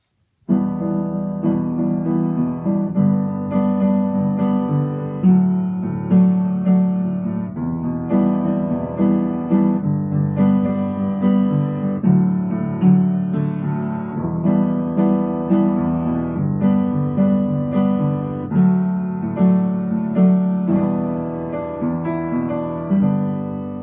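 Piano plays the bridge of a song, with sustained chords voiced in a warm mid range, moving steadily and evenly with no voice over it.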